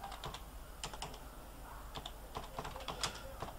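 Someone types on a computer keyboard, a faint, close patter of uneven keystrokes in quick clusters with short pauses, with no speech over it.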